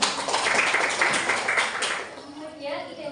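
A classroom of students claps for a classmate during a microteaching practice lesson, a dense burst of clapping for about two seconds that fades out as a few voices murmur underneath.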